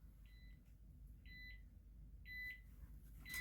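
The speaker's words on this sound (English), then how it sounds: "That's my alarm clock going off." An alarm clock going off in a quiet room: three short, identical electronic beep bursts repeat at a steady rhythm, moderately loud and clear over a low background hum, with no talking.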